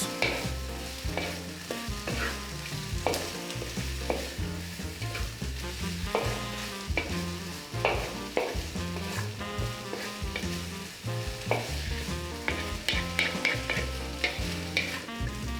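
Partly cooked beef fries in hot oil with ginger for beef and broccoli, a loud continuous sizzle close up, broken by repeated clatter of stirring against the pan.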